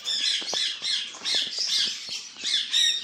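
Yellow pet birds squawk in rapid, overlapping shrill bursts, close and fairly loud, a busy chatter of calls with no one talking.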